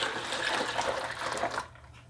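Water is poured from a jug into a pot of karhi pakora curry on the stove, giving a steady close splashing pour for about a second and a half before it stops.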